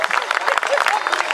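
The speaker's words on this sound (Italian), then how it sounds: "Fate un applauso a queste donzelle" Audience clapping for the models at an Italian fashion night show, a dense patter of hands with voices mixed in throughout.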